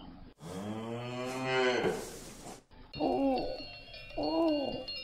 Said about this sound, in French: Il poussait devant lui un troupeau de vaches et de taureaux